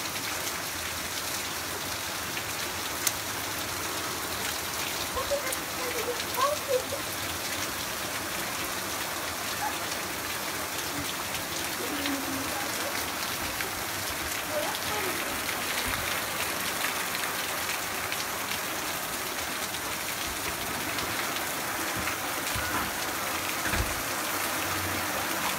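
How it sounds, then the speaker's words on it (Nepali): Heavy rain driven by strong wind in Louisville, Kentucky, a dense, steady wash of falling water and spatter on surfaces, with faint talk beneath. "यति बेला ठुलो हावा वर्षा भइरहेको छ।"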